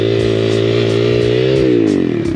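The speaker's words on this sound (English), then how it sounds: "bike is leaned over, revs go up, and we're gonna let go of the clutch" A dirt bike engine held at high revs while the bike is leaned over for donuts, a loud close buzzing drone that climbs in pitch, with faint periodic thumps underneath.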